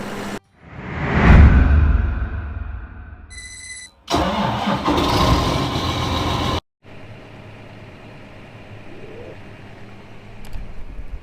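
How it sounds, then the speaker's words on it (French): A truck's engine cranks and catches in a farming video game, building to a loud rumble, then cuts out abruptly before a second burst of engine noise and a steady quieter idle, with a brief chime in between. "Là je suis en train de démarrer et faire gonfler tout l'ensemble"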